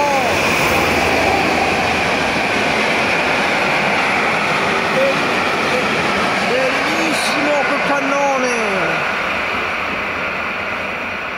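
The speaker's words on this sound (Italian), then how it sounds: "In arrivo un treno storico fantastico con un locomotore diesel e un caimano." A heavy diesel locomotive drones loudly and continuously as a historic train rolls past, with someone talking excitedly over the noise.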